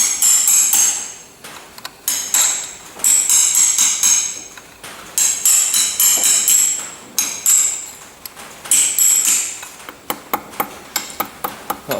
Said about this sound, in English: got me little chisel, bring these little tabos out of the way.